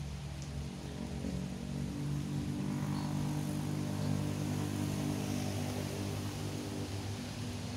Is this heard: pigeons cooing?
no